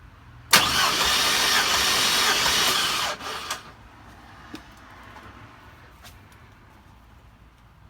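Car engine cranking over during a cylinder compression test, a loud continuous starter churn for about two and a half seconds that cuts off abruptly, followed by faint clicks and handling noises in a quiet garage.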